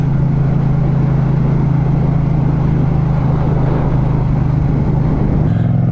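A motorcycle engine drones loud and steady with heavy wind rush while riding the roads around Lake Garda in Italy, the pitch dipping slightly near the end.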